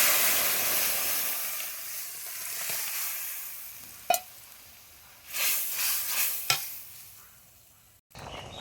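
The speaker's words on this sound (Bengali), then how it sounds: "এখন আমি ডালটা দিয়ে দেবো।" Chana dal tipped into a pan of frying ground ginger and cumin paste gives a steady close sizzle, with a sharp clatter near the middle and bursts of stirring and spoon scrapes before the noise cuts off abruptly.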